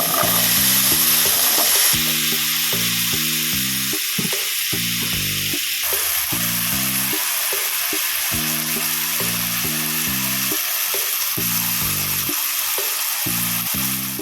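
Potatoes frying in oil in a pan for a breakfast omelette with spring onion, giving a steady, close sizzling hiss throughout with rhythmic background music underneath.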